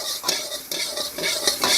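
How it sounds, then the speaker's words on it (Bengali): Soybean chunks are stirred and fried in hot refined soybean oil in a kadai, with a steady sizzle and repeated scraping of a metal spatula against the pan, sounding close with no talk. "ভালো করে সোয়াবিনগুলোকে ভাজা ভাজা করে নেব"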